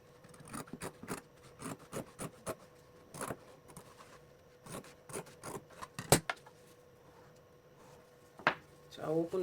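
Scissors snip through coat collar fabric in a quick run of short, sharp cuts, with a few louder rustling handling sounds near the end.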